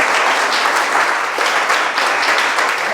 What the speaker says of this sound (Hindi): इस कार्यक्रम के लिए पहले एक बार अच्छे से तालियां बजा दें।